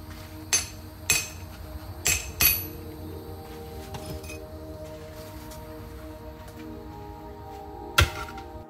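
A hammer breaks apart a stone that has been drilled with rows of holes. Five sharp, loud strikes ring out: two early, a close pair in the middle, and a lone final blow, with quiet stretches between them and no talking.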